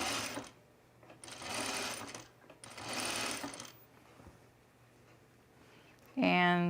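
A sewing machine stitches the neckline of a 1930s-inspired blouse in three steady bursts, close and clear, followed by a quiet pause and a sudden louder tonal sound at the end.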